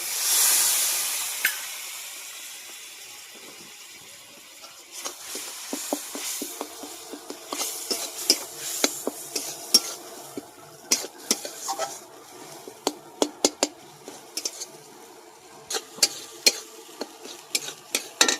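Spice paste with salt and turmeric fries and is stirred in a pan for a rui fish curry, a hiss under repeated sharp clinks and scrapes of a spoon against the metal, growing busier toward the end.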